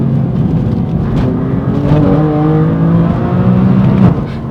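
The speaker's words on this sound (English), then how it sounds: "The exhaust is a titanium exhaust, so it sounds awesome, it's louder, so it makes more noise" A BMW M4 GTS with a titanium exhaust revving up close, its engine note rising and falling in repeated sweeps with a loud, metallic rasp that dominates throughout.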